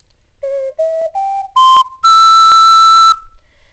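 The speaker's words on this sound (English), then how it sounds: "for this ocarina, you can even do a high E" An ocarina played alone in a short improvised phrase: four brief rising notes, then a sustained clear high E held for over a second, pure and whistle-like, close and fairly loud.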